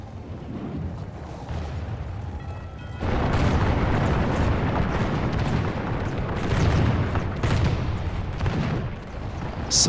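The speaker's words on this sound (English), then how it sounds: "They are being cut down by musket fire." Musket volleys in a 1648 Swedish campaign strategy game cut down charging cavalry, beginning as a quieter rumble before loud, dense gunfire crackles and booms take over and roll on continuously.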